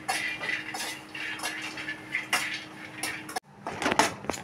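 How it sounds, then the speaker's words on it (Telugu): Nuts and seeds being dry-roasted in a pan, heard as close, repeated metallic scrapes and clinks of a spatula stirring against the pan in an uneven rhythm. "ఇది వేయించుతున్నా"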